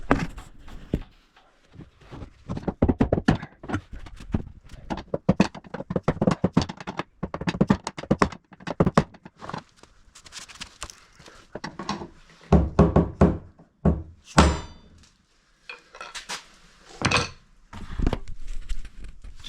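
A steel pry bar knocks repeatedly on the plastic fuel tank lock ring of a 2011 GMC Denali/Suburban/Tahoe, giving irregular close, sharp taps and thuds in bursts with short pauses.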